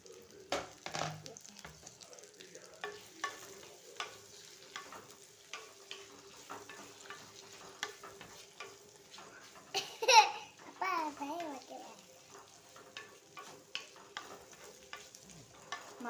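Sliced big onions go into hot oil in a clay pot, giving a soft, intermittent sizzle punctuated by scraping and stirring knocks, with one louder clatter partway through; fairly quiet and close.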